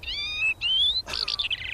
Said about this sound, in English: The sound of a skylark above Chris Skinner's Norfolk farm.